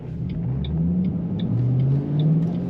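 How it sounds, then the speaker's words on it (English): A 2007 Ford Mustang Shelby GT with a 5-speed manual gives a steady, deep engine rumble from inside the car while driving, with slight rises in pitch as it pulls. "Let's go for a drive in a 2007 Ford Mustang Shelby GT. This is a 5-speed manual. Has a great rumble to it."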